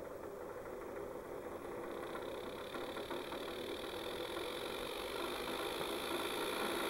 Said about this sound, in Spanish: Sigo dándole y ahí ya empieza a girar el motor.